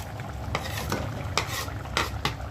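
Coriander being stirred into a spinach (palak) gravy with a spoon in a pan, several soft scraping strokes over a low steady simmer with faint sizzle, close and fairly quiet, no voices.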